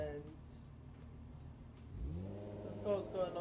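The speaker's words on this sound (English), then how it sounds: "Okay, this car's loud, but it's not bad." A demolition derby car engine idles low and rough, then rises in a short rev near the end, close by and moderately loud.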